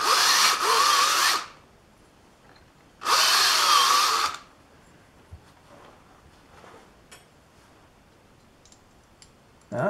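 A power drill whirs loudly in two short bursts deburring a metal hole, followed by quieter clicks and scraping of metal and tool handling.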